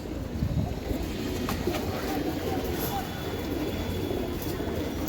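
Racing pigeons from a racing club coo softly in a loft, a low steady murmuring under a constant background hum, with faint intermittent human sounds.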